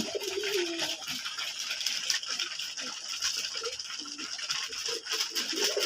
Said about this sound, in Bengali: কবুতরকে বিকালের খাবার দিচ্ছি